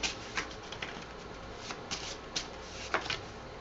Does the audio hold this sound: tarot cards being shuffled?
yes